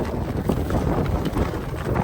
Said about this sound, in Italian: ci sono delle raffiche di vento incredibili